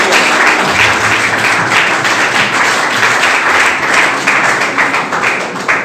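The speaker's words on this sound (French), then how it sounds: "Acclame très très fort le roi." A church congregation applauds loudly and continuously, dense close clapping filling the room without a break.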